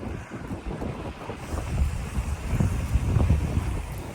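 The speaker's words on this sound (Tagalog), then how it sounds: "Presko hangin." Gusty wind buffets the microphone on a newly built road in Imus, Cavite, with a low, rumbling roar that swells and fades unevenly over a few seconds.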